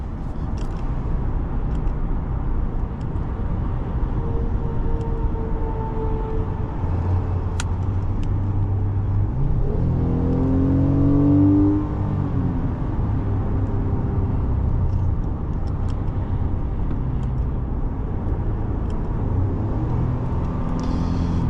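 A 2025 Ram 1500 pickup drives along with a steady low engine drone and road rumble throughout, rising briefly in pitch as it accelerates through the gears near the middle, with no talking.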